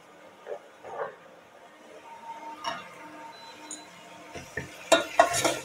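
Small onions sauté in a pan for mutton curry while a utensil stirs and scrapes. The clinks and scrapes are faint and scattered, growing a little louder and busier near the end over a low background hiss.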